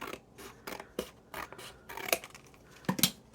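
Scissors make repeated short snips trimming paper from packaging for a gel print art journal, close and crisp, about eight or nine cuts in an uneven rhythm with a soft rustle between them.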